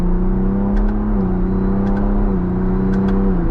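A 2024 Ford Bronco Raptor pulls hard in manual paddle-shift mode on a highway, its engine drone rising between quick gear changes that each drop the pitch briefly; the engine is close and loud.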